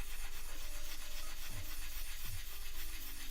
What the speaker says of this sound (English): Use low grit sandpaper. So that's what I'm basically using right now.